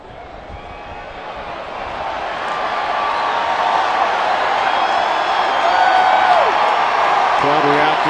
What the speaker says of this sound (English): Crowd reacting to a bit of a delay